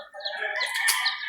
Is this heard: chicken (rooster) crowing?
yes